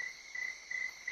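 A cricket chirps close by in repeated short trilling bursts, steady and high-pitched, with faint background hiss between the pulses.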